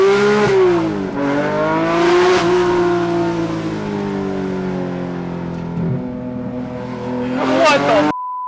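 A 600 hp DeMan-built 4.5-litre Porsche GT3 engine revs hard toward 9,000 rpm, rising and falling in loud sustained sweeps heard from inside the car before cutting off abruptly near the end.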